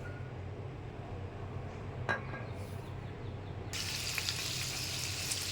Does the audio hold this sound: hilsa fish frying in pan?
yes